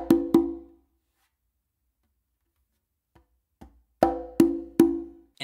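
A Danny Thompson tumbao on conga and tumba drums: sharp, close hand strikes in quick clusters, a pair at the start, a long pause with faint taps, then a run of three or four crisp slaps and open tones, no voices.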